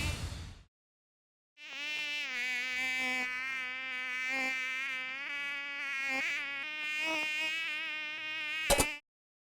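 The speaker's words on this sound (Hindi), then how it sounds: "मच्छर ढूंढ रही हूँ" A mosquito buzzes loud and close in a steady, slightly wavering high whine that runs for several seconds after a short pause. It ends with a sharp click.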